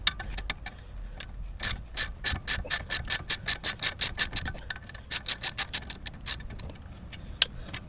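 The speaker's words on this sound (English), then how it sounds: "So spanner and a socket, take both of these out, and this just basically releases the caliper" Rapid rhythmic clicking of a ratchet spanner and socket loosening brake caliper bolts on a 2018 Ford Transit Custom van, in two close bursts of even ticks separated by a short pause, with a few stray knocks.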